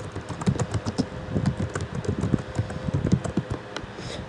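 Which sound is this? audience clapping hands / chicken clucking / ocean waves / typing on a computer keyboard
typing on a computer keyboard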